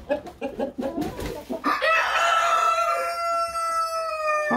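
White Plymouth Rock chickens cluck in a quick run of close calls, then one bird lets out a long drawn crow that rings on to the end.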